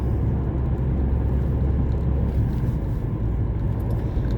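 Steady low road rumble from inside a moving car, with gusts of wind buffeting the body throughout and no talking.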